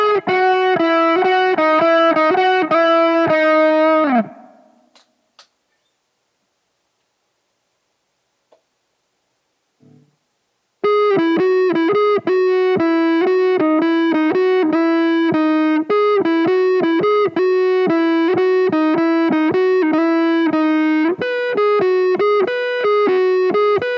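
A Gretsch Streamliner hollow-body electric guitar set to both pickups with the tone knobs turned down plays a steady stream of picked notes and chords. A silent pause of several seconds interrupts the playing before it resumes at the same loudness.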